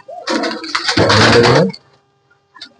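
Pigeons in a home loft where several birds are nesting on eggs give one close, throaty coo with a rolling, warbling tone, followed by a short pause and a faint second murmur.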